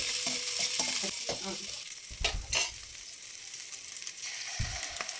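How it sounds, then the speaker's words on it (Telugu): Carrots and green chillies frying in a pan for veg pulao, giving a continuous crackling sizzle with bursts of scraping and stirring from the spatula and a few knocks against the pan. "క్యారెట్ పచ్చిమిర్చి వేసుకుని పచ్చిదనం పోయే వరకు వేపుకుందామండి"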